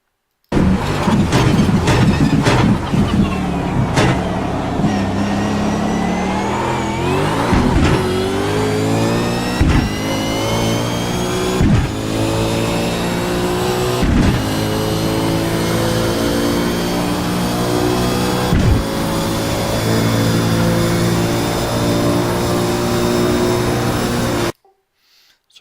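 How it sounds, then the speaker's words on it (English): A V8 race car engine revs hard through downshifts at a Montreal circuit, loud and close, with repeated sharp blips and rising, falling pitch sweeps over about 25 seconds before stopping suddenly. "We're going to downshift to second gear and actually go to first gear mid-corner here."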